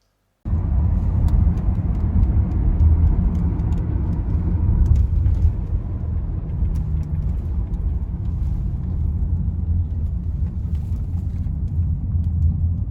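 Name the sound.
riding in back of pickup truck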